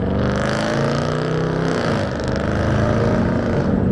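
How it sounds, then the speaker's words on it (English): A loud car engine revs and roars close by, its deep growl holding steady and swelling as the vehicle passes. "I just don't get why people would want a car to sound that loud."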